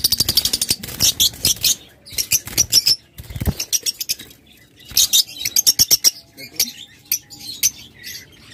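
Pet opaline green birds, a pure opaline pair, give bursts of sharp, bright chirps that come in quick clusters separated by short pauses, close and loud, with some rustling between calls.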